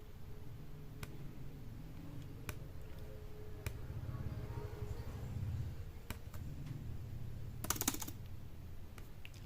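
Soft, rapid key clicks come from typing on a Lenovo ThinkPad X1 Yoga 2nd Gen laptop keyboard: a quiet, close, irregular patter with a few sharper taps and no speech.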